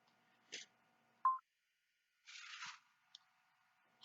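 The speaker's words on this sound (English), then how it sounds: "Getting fucking notifications." Phone notification tones, a short chime followed by a few scattered clicks and rustling handling noises, close and sparse against near silence.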